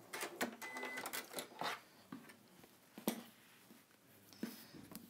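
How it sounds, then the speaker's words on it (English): Quilting stitches on a sewing machine, heard as quiet bursts of rapid mechanical clatter that stop and start, close by but low in level, with no talking. "So if we carry on sewing now and test it again."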